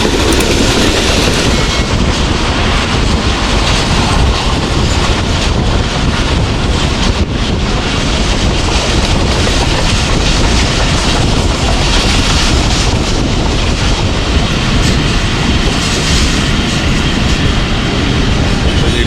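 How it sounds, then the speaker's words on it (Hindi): The Jaffar Express passenger train rolls through Punjab at about 105 km/h, a loud, continuous roar of wheels and rushing wind with faint rhythmic rail clatter, recorded close from on board with no talking. "अहमदाबाद रेलवे स्टेशन से स्किप हो रही है ट्रेन हमारी और इसकी स्पीड इस वक्त ऑलमोस्ट 105 किलोमीटर पर आवर है"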